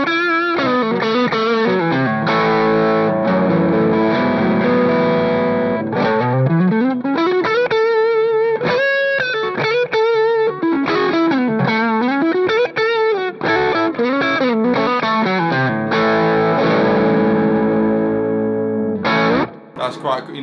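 Gray Guitars Emperor S Type electric guitar on the neck pickup plays a heavily distorted rock tone, loud sustained riffs and bends with chorus and echo, continuous throughout before a brief pause at the end.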